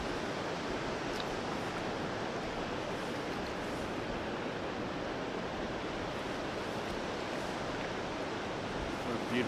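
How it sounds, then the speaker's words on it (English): A waterfall on the Temagami River pours as a steady, broad rushing roar, constant and moderately loud throughout with no voices over it. "The waterfall right behind me here."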